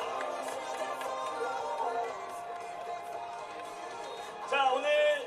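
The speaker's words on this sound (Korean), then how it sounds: "계속해서 끊임없는 박수 부탁드립니다." A home crowd at a K4 League football match between FC Sejong and Jeonju Citizen FC, on a hot day, cheers and applauds in a steady roar that swells louder near the end.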